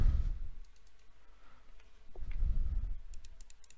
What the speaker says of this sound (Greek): Ακούστε και το κλικ του